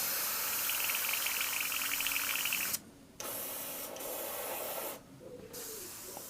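A Creos PS270 airbrush sprays thinned paint at low pressure, giving a steady close hiss that cuts out twice briefly as the trigger is released, then resumes.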